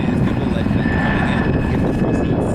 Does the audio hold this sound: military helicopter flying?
yes